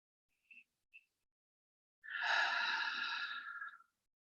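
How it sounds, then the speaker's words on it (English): A single close, soft deep breath, an audible exhale lasting nearly two seconds, comes after two tiny faint clicks, in a quiet guided meditation. "Take another deep breath."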